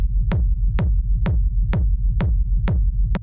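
Techno rumble kick built with delay: seven evenly spaced, punchy kicks with a sharp click, each trailed by a low, droning rumble that fills the gaps for a steady, driving pulse, alone and up front.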